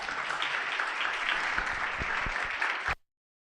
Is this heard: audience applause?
yes